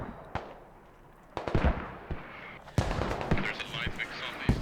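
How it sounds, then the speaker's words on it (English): Explosions from the video game Squad, heard during a tournament match: sharp blasts and gunfire cracks, with a loud burst near the start and a denser, sustained barrage later, alongside talk. "More explosions non-stop."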